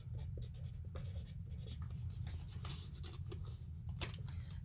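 Pen or pencil scratching steadily across a paper fortune teller, a close, continuous scribbling with rapid strokes and no talking.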